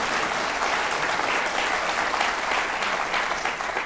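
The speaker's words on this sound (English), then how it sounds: "He actually doesn't need the applause." Audience applause at a live evening talk event, a dense, even wash of many hands clapping, loud and sustained throughout with no voices over it.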